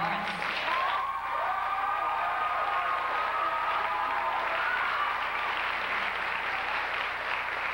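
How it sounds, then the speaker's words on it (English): Sustained audience applause at a spring 1995 stage production, thanking the tech crew; dense, even clapping fills the room steadily for about eight seconds with no break. "Please give a big round of applause to the incredibly hardworking tech crew"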